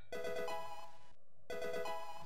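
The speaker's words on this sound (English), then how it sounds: "The Pokephone is ringing." A Pokephone ringtone from the Pokemon Snakewood video game, a bright electronic melodic tune playing twice in near-identical bursts with a short pause between, clear and alone.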